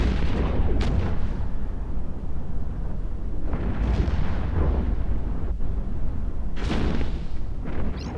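Explosive missiles going off during a space battle in the video game EVE Echoes, a continuous heavy rumble punctuated by several sharp bursts spread across the stretch, loud and dense.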